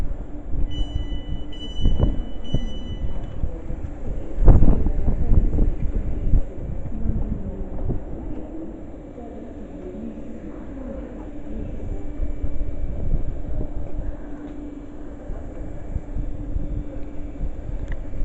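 A train pulls away from the platform at Harrow & Wealdstone station, a steady low rumble and rolling hum that stays close and continuous, with a few sharp clanks early on and wind buffeting the microphone.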